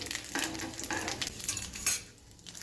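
A spoon stirs urad dal, chana dal, cumin, mustard seeds and peppercorns sizzling in hot oil for a tempering, with soft scraping and crackling strokes against the pan, close and fairly quiet.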